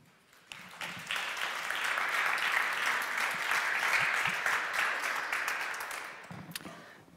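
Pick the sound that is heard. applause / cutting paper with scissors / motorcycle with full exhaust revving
applause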